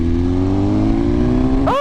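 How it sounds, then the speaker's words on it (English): A 2023 BMW S1000RR motorcycle engine holds a loud, steady high-revving drone close by, then revs sharply upward near the end with a rising whine. "God, this bike sounds so good."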